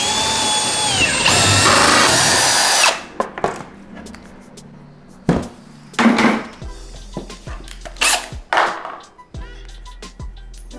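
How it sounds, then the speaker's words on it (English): A power drill bores holes into a wall to hang a Sanus Simplicity full-motion TV mount, a loud steady whir for a few seconds, then scattered knocks and clatter of handling tools. "Drill bit back on. We're gonna go right in there."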